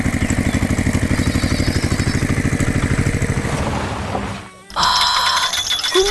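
A red tractor engine chugs loudly with a steady, rapid mechanical rhythm, briefly dropping out before resuming with a higher whine.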